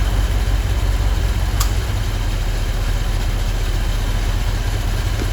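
A car engine idles with a steady low rumble and hum while the AC compressor clutch engages, bringing a faint click and a slight dip in the idle.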